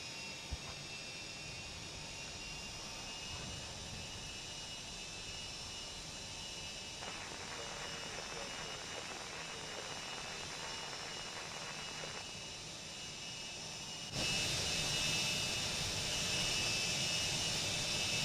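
MD-83 airliner jets with Pratt & Whitney JT8D engines running, a steady broadband roar with a high whine that swells louder and brighter near the end.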